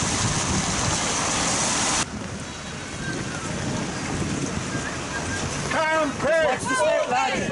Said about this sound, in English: it is bucketing down